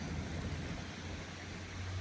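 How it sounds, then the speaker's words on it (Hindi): Steady monsoon rain hiss fills the air on a mountain road near Rishikesh, a dense even wash with a low rumble underneath and no distinct drops standing out. "बारिश रुकने का नाम नहीं ले रही है।"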